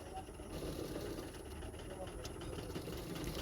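A domestic sewing machine stitches a folded strip along the sleeve edge of a boat neck princess cut blouse, giving a steady, continuous motor whir at close range that runs without pause.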